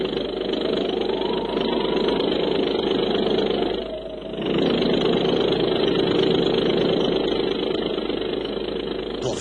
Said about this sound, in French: Je lance l'hélice.